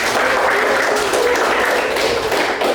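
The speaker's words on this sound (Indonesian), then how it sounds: "Boleh tepuk tangan." A classroom of students clapping their hands together, a dense, continuous patter of close applause lasting a few seconds without pause.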